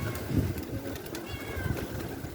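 A cat meows softly a few times nearby, short plaintive calls over a quiet indoor background, faint and close with no talking.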